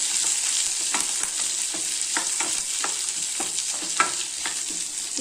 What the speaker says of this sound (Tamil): இப்போ வெங்காயம் போட்டு கருவேப்பிலையும் போட்டு நல்லா கொஞ்சம் வதக்கிக்கலாங்க